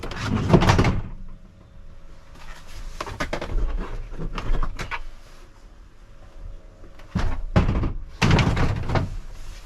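Plastic door trim panel on a Ford Transit Custom crew cab van being pried and popped free, giving several loud close thunks and clacks in bursts with quieter handling rattles between.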